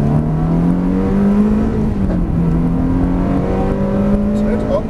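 Ferrari 360 engine pulling away steadily under acceleration, a continuous rising drone with a clear climbing tone held for several seconds, up close, with a person talking over it.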